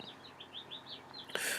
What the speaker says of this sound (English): don't those birds sound so beautiful?